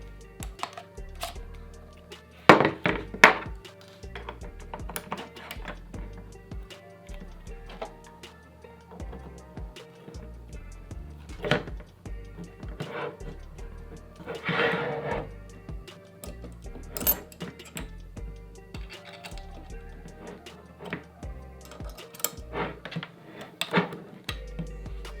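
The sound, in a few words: assembling a camera rig with NATO rails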